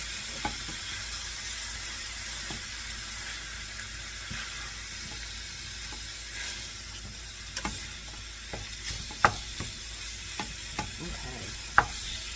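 A low, steady sizzle of food frying in a little oil in a pan, broken by scattered sharp taps and scrapes of a utensil breaking it apart, growing more frequent toward the end.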